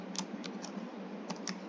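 Quick keystrokes tapping on a computer keyboard while coding in Pascal, a handful of light clicks in irregular bursts over a steady low hum, close and fairly quiet.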